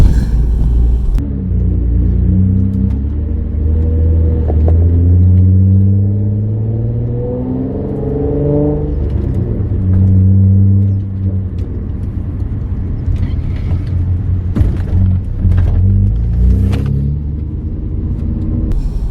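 A 2008 Nissan Altima Coupe 3.5 SE with 150,000 miles drives along, its engine rumbling close and steady as it climbs and falls through several revving shifts under wind noise.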